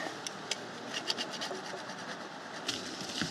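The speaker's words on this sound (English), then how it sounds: "Just gonna do a quick scrape on here" Quick rasping scrape strokes work over a Farmall Cub carburetor part, short and fairly faint, repeating in an uneven rhythm close by.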